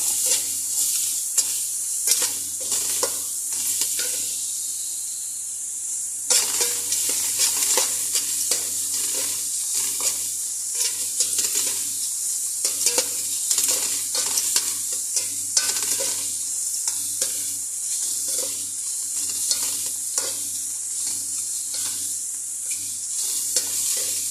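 Garlic fries and browns in a pan with a steady, close sizzling hiss that runs throughout, punctuated by frequent light stirring scrapes and clicks.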